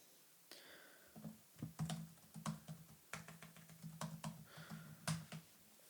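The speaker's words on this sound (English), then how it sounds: "Typing, looking up stuff." Quiet, irregular clicking of keys on a computer keyboard, a run of close taps with short pauses, heard alone.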